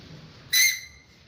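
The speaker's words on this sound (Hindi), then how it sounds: "के लिए बच्चों की सीटी बनाई।" A handmade children's craft whistle gives one short, shrill, high-pitched toot of about a third of a second, loud and clear against a quiet room.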